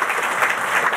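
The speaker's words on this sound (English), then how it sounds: "I'd like to give them a round of applause" A meeting audience applauds Department of Transportation staff, a brief burst of dense, even clapping heard close and fairly loud.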